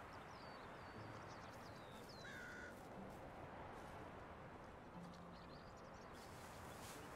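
Birds call in the medieval countryside of the Medieval Dynasty game, a few faint, scattered cries that sit over a steady, dense wash of ambient noise.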